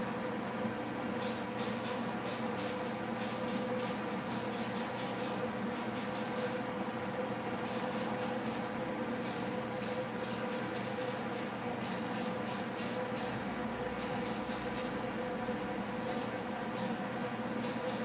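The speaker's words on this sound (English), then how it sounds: "Let's spray it this way." Aerosol gloss spray is applied to resin dominoes in a series of short, loud, close hissing bursts that repeat in an uneven rhythm, with no talking.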